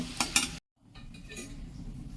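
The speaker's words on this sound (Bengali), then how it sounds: "তেল গরম হয়ে গেলে কিছু কেটে রাখা ছোটো ছোটো আলু ভেজে নেব" Small cut potatoes fry in hot white oil: a loud, bright sizzling burst, then a sudden gap of silence, then a steady, fainter hiss of frying.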